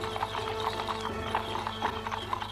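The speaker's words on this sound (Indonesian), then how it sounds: "Aku mendengar suara kereta kuda berlari di tengah malam ini." Horse-drawn carriage hooves clip-clop in a quick, regular rhythm over a low rumble of wheels, steady and fairly close, with no talking.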